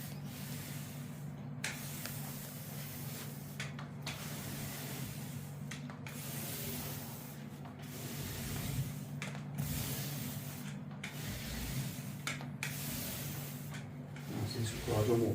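Polish being rubbed by hand onto a wooden sideboard top in a customer's home, a steady soft rubbing and spraying hiss running continuously throughout with brief pauses, close and moderately loud.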